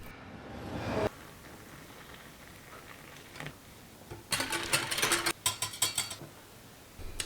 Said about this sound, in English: And that is my whisking technique.